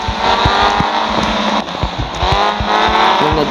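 A Stunt motorbike in a mobile video game revs with a loud, continuous engine whine and wavering pitch, broken by rapid percussive clicks and thumps. No speech is heard.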